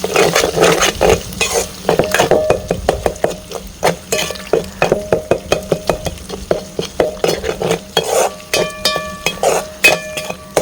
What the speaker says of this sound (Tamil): இப்போ நல்லா கிளறி விட்டுடலாம்.